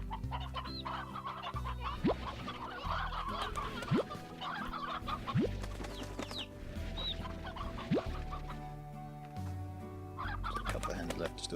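Chickens cluck and a rooster calls in the Slime Rancher video game, with steady poultry clucking over a continuous game backdrop of layered music and ambience.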